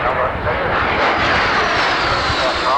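Loud, steady roar of a turboprop aircraft engine and propeller at the 1990 Farnborough Air Show, with no breaks. The engine noise is close and dense, and a speaking voice runs faintly under it.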